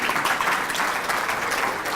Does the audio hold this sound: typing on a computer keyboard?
no